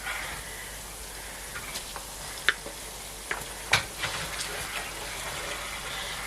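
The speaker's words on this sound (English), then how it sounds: "so I'm going to fry it with the onions before adding the tomato paste" Tomato paste sizzling and frying in hot oil with onions and ginger for a Nigerian fish stew, a steady soft hiss with occasional sharp pops and spatters, no voices.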